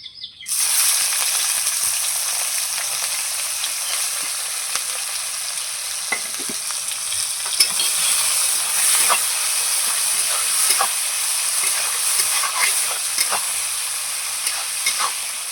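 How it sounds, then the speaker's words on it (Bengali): Onions frying in hot oil in a pan while being stirred, a steady loud sizzle with scattered scraping and tapping from the spoon throughout, continuous and close with no talking. "আমি এই তেলের মধ্যে আর একটু তেল দিয়ে দেবো পেঁয়াজটা দিয়ে দেবো"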